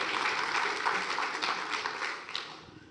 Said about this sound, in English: Applause for the stick, come on.